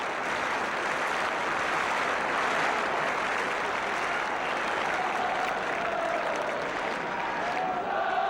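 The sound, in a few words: football crowd applauding at Spurs match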